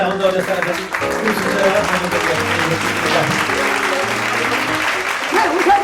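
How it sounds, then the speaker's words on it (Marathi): Sustained audience applause at a 2025 get-together, a dense, steady clapping from a crowd that continues for several seconds with voices mixed in underneath. "palmas"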